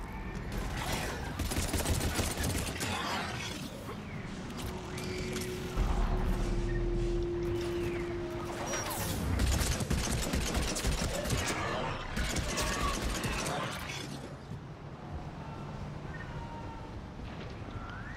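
Gunfire in Mass Effect 3 comes in scattered bursts of shots and mechanical clatter over a quiet game backdrop, with a sustained tone drifting in midway.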